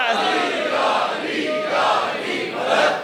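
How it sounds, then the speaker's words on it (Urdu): A religious gathering at a Shia majlis during Ramazan, where a crowd raises the Naara-e-Haidari slogan together. The loud, sustained chorus of voices swells in waves for about three seconds. "اب تو نعرے حیدری مار دو"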